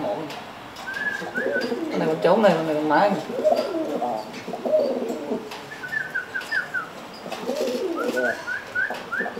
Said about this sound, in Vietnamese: được chăm sóc đàn chim bồ câu